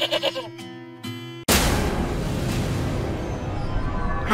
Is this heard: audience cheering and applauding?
no